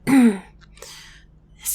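A single quiet throat clearing, short and rough, followed by faint breathy sounds and a brief hiss at the end.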